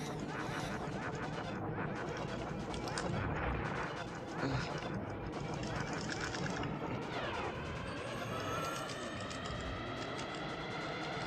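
Rapid, dense laser-style shooting from the Starwing (Star Fox) space shooter game, firing continuously over loud game music and explosions for the whole stretch.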